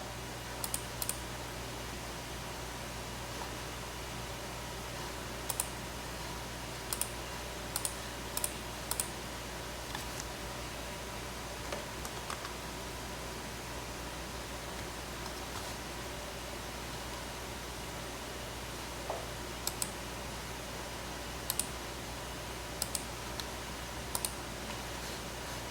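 Typing on a computer keyboard: sparse, light clicks in small bursts of a few keystrokes, heard close over a faint steady background hiss, with no voices.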